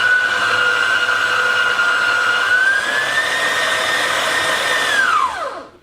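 An electric mixer whirs steadily while blending softened ingredients for homemade cheese naan. Its motor pitch rises partway through, holds, then spins down to a stop at the end, with no talking.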